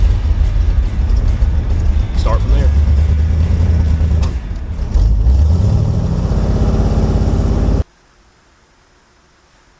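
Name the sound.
car engine with carburetor warming up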